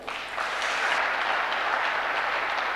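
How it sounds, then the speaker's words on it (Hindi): Audience members applaud themselves at an event hosted by a photography business, a brief swell giving way to a sustained, dense wash of clapping that stays even and moderately loud. "एक बार जोरदार तालियां अपने लिए बजाएं"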